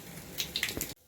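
Mustard seeds hitting hot oil in a pan for a carrot stir-fry, a short cluster of sharp spluttering pops and crackles, close and fairly quiet, cutting off abruptly.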